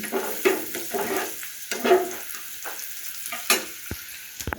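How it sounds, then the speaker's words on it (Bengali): Potato and carrot bhaji frying in a pan, close sizzling with stirring scrapes and clatter, uneven bursts rising and falling over a few seconds, no talking. "আলু আর গাজর ভাজি করব ভাজিটা বসায় দিই"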